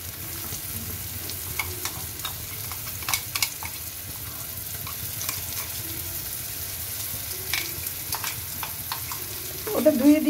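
Ginger, onion and garlic paste with tomato fries in a pan for an egg dish, a steady hiss and crackle with occasional stirring scrapes and clinks, close and continuous, growing a little louder at the end.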